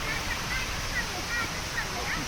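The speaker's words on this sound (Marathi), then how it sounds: "असे छोटे छोटे धबधबे तुम्हाला पाहायला मिळतील या रस्त्यामध्ये" Small waterfalls along a forest path near Gagangiri Maharaj Math in Khopoli give a steady close rush of splashing water, with people talking over it.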